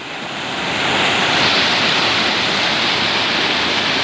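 A waterfall in Shillong roars in a steady, loud, dense rush of water that fills the whole clip without a break, with no voices.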